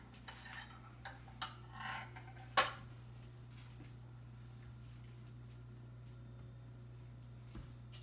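A spoon's back spreads pizza sauce across dough, giving faint scattered clinks and soft smears with one sharper tap, quiet and close over a low steady hum.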